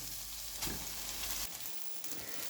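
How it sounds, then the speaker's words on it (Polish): Steady sizzling of noodles and shrimp stir-frying in a hot pan, with a brief stirring clatter partway through. "Dodajemy makaron i smażymy kolejną minutę."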